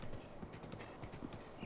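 A horse's hooves clop in a quick, steady gallop rhythm in The Legend of Zelda: Breath of the Wild, close and fairly quiet over soft background ambience.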